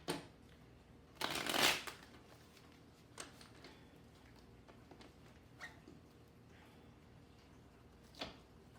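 Tarot cards are shuffled by hand in a quiet room, with one brisk riffling burst near the start followed by a few faint, scattered card flicks and taps.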